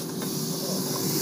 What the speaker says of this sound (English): you'll probably hear it sizzle right now